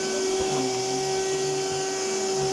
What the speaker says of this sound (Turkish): Halıda süpürmesi çok kolay.